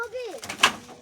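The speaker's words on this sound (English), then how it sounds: "waiting for me to open the door now" A door is opened at home with a brief sharp click and rattle that follows people talking nearby.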